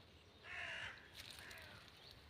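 A crow caws once, then again more faintly, at a moderate distance outdoors in rural countryside where wild vegetables are gathered, with quiet ambient background.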